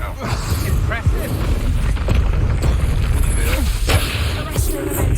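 Incendio fire spell cast in Hogwarts Legacy, a loud fiery burst and boom amid dense battle noise with repeated impacts and whooshes, constant game action filling the background.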